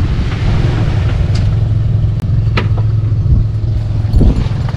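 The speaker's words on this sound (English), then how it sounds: "We got the motor reinstalled here" A reinstalled boat outboard motor, freshly oil-changed, runs at a steady low idle with a constant deep rumble and faint mechanical hum, loud and close throughout with no talk over it.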